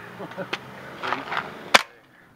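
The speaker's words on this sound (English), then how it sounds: "let Jafaja take a shot" A single sharp crack of a paintball gun going off near the end, close and abrupt, after some faint murmured talk and small knocks.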